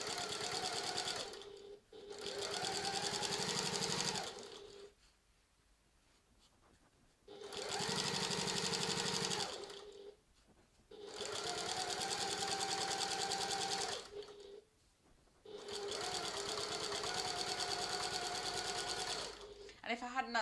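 Sewing machine stitching a tote bag strap, running in four long steady bursts of several seconds each with short quiet pauses between, close and loud.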